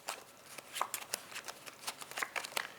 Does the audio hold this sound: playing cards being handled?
yes